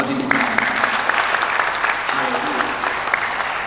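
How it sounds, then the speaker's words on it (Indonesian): Steady applause from a church congregation fills the room, continuous clapping at moderate loudness with no voices standing out. "Yang percaya boleh berikan tepuk tangan bagi Tuhan."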